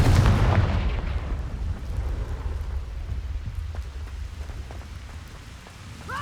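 A Confringo spell blast in the Hogwarts Legacy video game lands as a loud, booming explosion at the start, then fades into a long rumbling, crackling tail.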